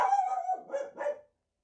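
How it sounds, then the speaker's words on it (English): A dog barks a few times in quick succession, one drawn-out yelp followed by two shorter barks, fairly close, then quiet. "I don't know what she's barking at."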